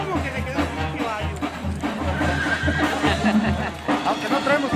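A horse whinnies at a Mexican coleadero, a charreada event in Valle de Jerez, Zacatecas, heard amid crowd noise and people talking nearby.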